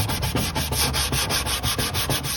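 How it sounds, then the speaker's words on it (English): Rhythmic back-and-forth sanding of car plastics with 220 grit sandpaper, a loud, close scratchy rasp repeating in regular strokes about five times a second, with no talking. "take you some 220 grit sandpaper and just start sanding until you got everything"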